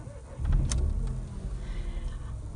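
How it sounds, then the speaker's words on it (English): A Renault Sandero with a 900cc engine cranking and catching, a short starter whirr followed by a quiet, steady idle heard from inside the car. "So now let's start up with this Renault Sandero and let's hear how it sounds like."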